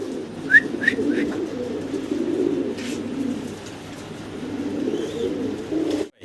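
A fancy pigeon coos in low, soft, rolling murmurs that run almost continuously nearby, with a few faint chirps from other birds early on.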